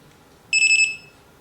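A BLUZZO dog training collar gives a single short, high, pure electronic beep, about half a second long, over near silence.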